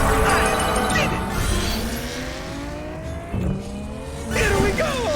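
Race car engine whining and revving in the Cars 2 Fast as Lightning racing game, loud and continuous with rising pitch sweeps and tire squeals, game music and effects layered over it.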